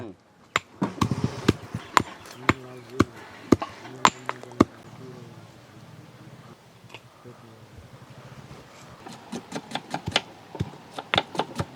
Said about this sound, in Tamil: பூண்டு அடிக்கலாம்ப்பா